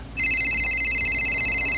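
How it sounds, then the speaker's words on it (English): A telephone rings in a steady electronic trill, starting abruptly and continuing evenly over a low background hum. "Yep, it's ringing."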